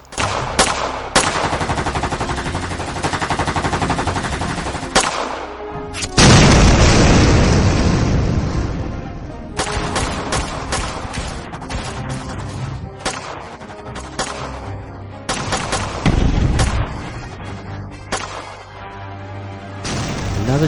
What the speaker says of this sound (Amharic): ቬነም ዌቦች ደግሞ ብዙ መሳሪያ ስለነበራቸው ወደነ ማሁል ቦምብ ጭምር መወርወር ጀመሩ።